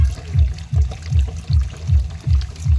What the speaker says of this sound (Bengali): এইবার জামরুলগুলোকে ধুয়ে নিলাম।